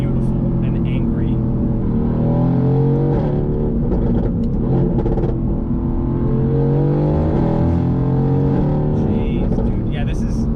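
A Mercedes-AMG GT sports car engine roars steadily under throttle, its pitch rising and falling through gears, loud and close throughout.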